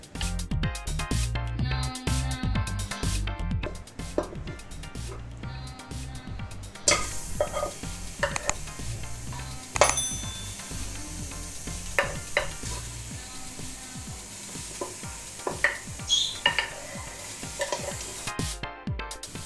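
Lamb chops sizzle and crackle in a pressure cooker while being stirred, with a steady frying hiss broken by scraping and the knock of a utensil against the pot.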